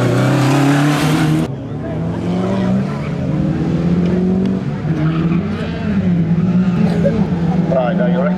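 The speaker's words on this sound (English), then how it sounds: "you'll recognise a Skoda out there coming around the final bend here" A Skoda rally car rounds the final bend of a live rally stage at the Race Retro Show 2012, its engine roaring and tyres scrubbing, with a commentator talking over the car throughout.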